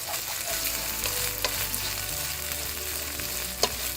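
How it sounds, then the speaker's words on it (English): Store-bought garlic paste sautés on a low flame, giving a continuous dense sizzle with occasional small pops and a low steady hum underneath, and no talking. "we add our garlic paste. Now you want to saute that on low flame for a few seconds."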